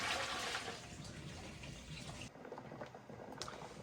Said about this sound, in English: I always put a splash of vinegar in there